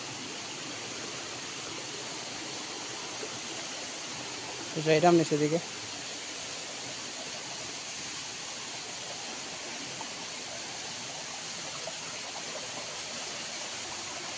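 A waterfall at Tel Gatti in Hailakandi pours in a steady, broadband rush that fills the whole stretch, with someone speaking briefly over the roar midway.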